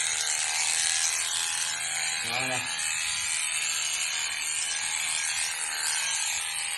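A Liveryman Black Beauty horse clipper runs with a steady electric hum and rasping buzz as it cuts through a horse's coat, going against the hair, beneath continuous close talk from a person.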